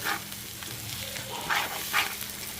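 Biryani masala for a mixed chicken, mutton and prawn biryani frying in oil, a soft steady sizzle with a few brighter bursts as the mixture is stirred in the pan, no voices.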